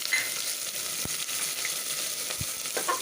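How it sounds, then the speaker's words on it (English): Onion, slit chili, cloves and cinnamon fry in hot oil for an Anglo-Indian brown stew, a continuous close hiss with a few light scraping clicks of stirring. "We'll fry that all up"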